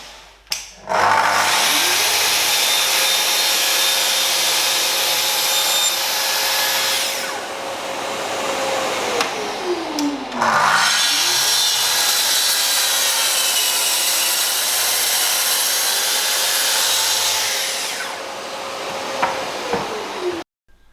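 A Festool TS55 FEQ plunge saw cuts through a 28 mm melamine worktop in two loud, sustained passes, each with a whining motor spin-up, a harsh rasping cut and a falling wind-down, separated by a brief pause.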